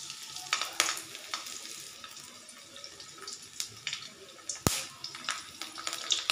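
Green chilies frying in three tablespoons of oil in a kadhai, a moderate sizzle with repeated crackling bursts and spatters, plus occasional stirring clinks and one sharp knock, no voice over it.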